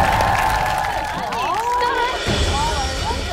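A television variety-show studio audience applauds and cheers before a mountain-bike challenge, a dense, steady wash of clapping and crowd noise with faint tonal sounds mixed in.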